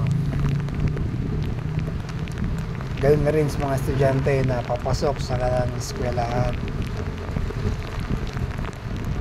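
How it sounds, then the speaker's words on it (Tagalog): Heavy rain pours down during a motorcycle ride on a Monday, a dense, steady hiss of water that runs without a break while someone talks over it partway through. "yan na, sumalubong sa atin, lakas ng ulan. Grabe, zero visibility, sobrang lakas."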